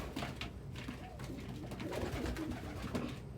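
Pet pigeons or doves coo softly and repeatedly at close range, low rounded calls over a steady indoor background with no one talking.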